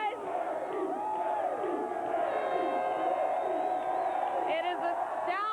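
A large crowd cheers and whoops continuously, loud and close, at the Chicago Cubs' 1998 Wild Card celebration after Game 163, with shouts rising above the steady roar.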